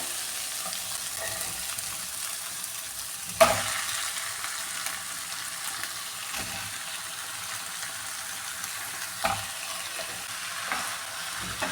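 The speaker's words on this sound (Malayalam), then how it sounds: "ഇനി ഇതിലേക്ക് ഈ ചിക്കൻ ചേർത്ത് കൊടുക്കാണ്" Chicken fries with onions and green chillies in a pan for biryani, a continuous close sizzle with occasional sharp knocks of stirring.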